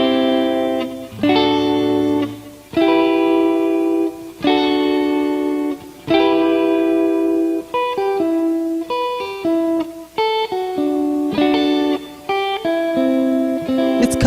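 Guitar triads played through effects units, ringing chords with a Mediterranean feel struck one after another in a slow, even rhythm, each sustaining with reverb, close and clear with no talking.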